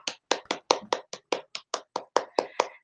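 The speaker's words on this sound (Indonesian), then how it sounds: "Mana tepuk tangannya?" A group of children claps in a steady rhythm after a storytelling session at a children's art club, about a dozen close, crisp claps with nothing else around them.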